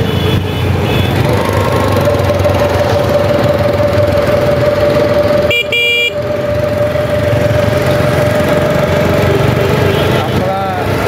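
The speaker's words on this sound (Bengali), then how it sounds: "বেশিরভাগ মোটর সাইকেলই বেশি এখানে।" Motorcycle engines running amid crowds at a tea garden in Satchari National Park, a loud steady droning rumble with a brief horn blast midway and a voice speaking over the noise.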